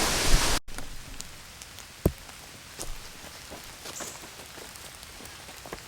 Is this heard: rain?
yes